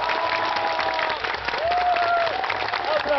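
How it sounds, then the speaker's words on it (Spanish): Dense applause from a crowd fills the space continuously at close range, steady and loud, with voices mixed in underneath. "Solo aplausos."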